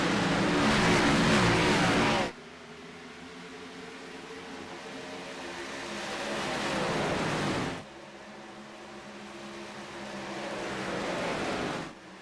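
Race cars in a NORC stock car racing video game at Texas accelerate away at a restart, a loud, continuous engine roar that surges and swells in waves with no talk.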